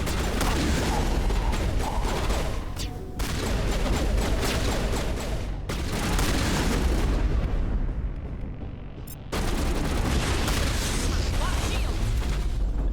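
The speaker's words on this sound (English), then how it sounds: "Something's exploding." Loud, rumbling explosions and heavy booms fill Mass Effect 1 combat, arriving in dense bursts separated by abrupt cuts and brief quieter stretches.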